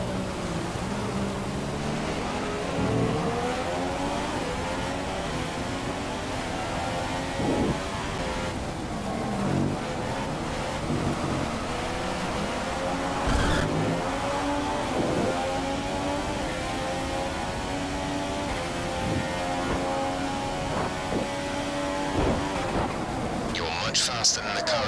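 Race car engine in F1 2015, an F3 season race, a steady high-pitched whine rising and falling through gear changes and corners throughout, loud and continuous with faint talk over it.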